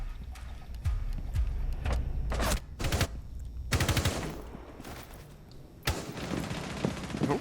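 Gunfire from a first-person shooter video game: several loud bursts of automatic weapon fire, separated by short pauses, with other noisy game sounds running beneath them throughout.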